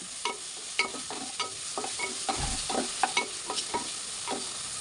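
Ginger garlic paste frying in oil for a mutton and bottle gourd curry, a steady close sizzle broken by repeated sharp scrapes and clinks as a spoon stirs the pan, with no talking.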